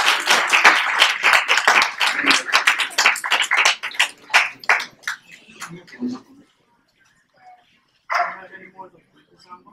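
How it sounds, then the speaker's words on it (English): Audience applause at a fashion exhibition event at the Queens Historical Society: dense, loud clapping that thins and fades after a few seconds, followed by silence and a brief burst of speech. "Let's all give a round of applause for Rachel."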